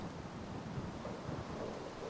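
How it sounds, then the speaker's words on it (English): Rain and rumbling thunder in the Minecraft Tekkit modpack, a steady low, faint roar of rainfall and distant thunder with no voices. "And of course now it starts raining"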